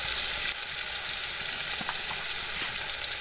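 Beef sizzles in a pot with chili flakes, a steady bright frying hiss with a few soft crackles and pops, close and continuous throughout.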